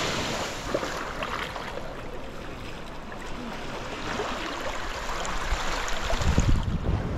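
Sea surf washes continuously onto a white sandy beach of a tropical island, a broad steady roar with wind, swelling slightly louder near the end.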